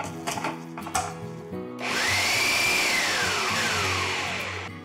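A kitchen mixer grinder pulses dry fruits into a laddu mixture, with a few light clicks and knocks first, then a loud whirring motor burst that climbs in pitch and slowly winds down.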